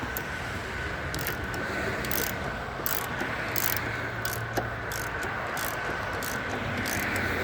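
A ratchet runs bolts down snug on a 2010 Chevrolet Aveo, a rapid, regular clicking of the pawl sounding close and repeated in bursts over a steady background hum, with no talking.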